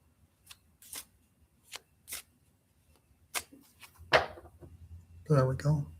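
Tarot cards split and riffle in a few short crisp bursts, fairly close, with light handling clicks between, ending in a denser shuffle that runs under brief talk.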